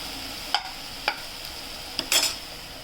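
Ridge gourd sautéing in a pan for chutney, a steady soft sizzle broken by a few sharp spoon scrapes and taps against the pan, close and with no talking.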